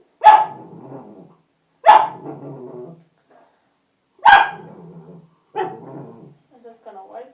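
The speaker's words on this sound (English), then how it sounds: "And I guess sorry for the barking." A Dorkie puppy barks four times at uneven intervals, each sharp, close bark trailing off into a brief echo, with quiet gaps between.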